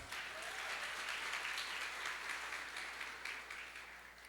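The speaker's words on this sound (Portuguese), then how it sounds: "Aplauda Jesus." Steady, dense applause from a church seminar audience praising Jesus, filling the space evenly and continuously at moderate loudness with no voices over it.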